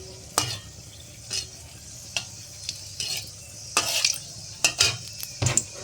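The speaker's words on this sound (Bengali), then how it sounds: "লঙ্কাটা একটু ভাজা হয়ে যাক" Dried red chillies frying in hot oil, with a low steady sizzle broken by a series of sharp, close scraping and clinking stirs against the pan, no voices.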